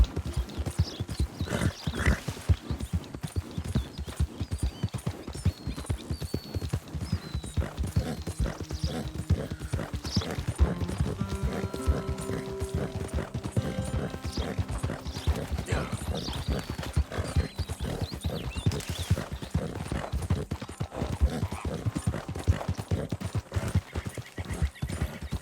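Galloping hoofbeats of a horse being ridden hard in Red Dead Redemption 2, a fast, steady, driving clip-clop rhythm that continues throughout, with occasional snorts and game sounds mixed in.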